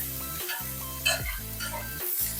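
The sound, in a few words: onions frying and being stirred in a pan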